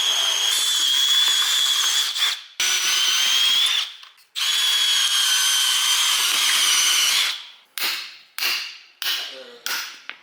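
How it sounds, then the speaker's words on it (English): A power drill whines in long continuous runs, stopping briefly between them, then several short quick bursts at the end; close and loud. "nice drilling work"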